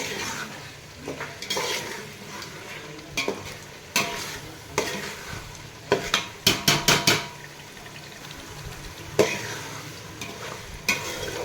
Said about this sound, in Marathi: आता अंडी टाकून घेऊ मिक्स करू ग्रेव्हीत